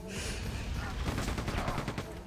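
Quake 2 gunner enemies lobbing grenades in the game: a dense, loud barrage of rapid repeated blasts and firing runs without a break through the short stretch.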